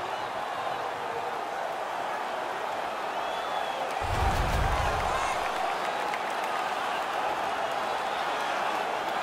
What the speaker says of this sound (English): The crowd is now engaged again.